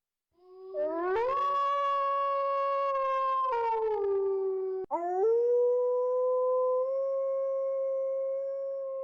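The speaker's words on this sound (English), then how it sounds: "So here's a howling wolf." AI-generated wolf howl, a single long tonal cry that rises, holds, dips briefly and then sustains at a steady pitch, loud and clean against a silent background.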